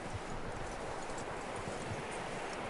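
Horse hooves clopping on the ground in Red Dead Redemption 2, a steady rhythmic gallop of repeated thuds under wind and rustling, moderately close and continuous.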